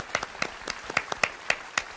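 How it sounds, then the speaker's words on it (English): A few people clapping for auction winners at an anniversary celebration party, sparse and moderately loud, with evenly spaced claps from a small group and no talk over them. "Let's give our winners a big round of applause."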